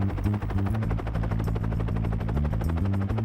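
Helicopter in flight, heard close and loud from inside, with a continuous low rotor throb and rapid blade chop running steadily through the whole stretch and nobody speaking.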